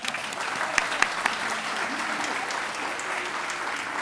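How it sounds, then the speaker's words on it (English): An audience at a town's annual state-of-the-town address gives a steady round of applause, dense and sustained throughout, with a few sharper claps standing out near the start. "Round of applause for all."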